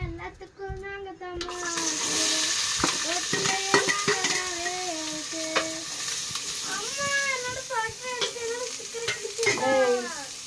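Steady sizzling of onions frying in hot oil for chicken gravy, with stirring clatter and a few high animal-like cries over it.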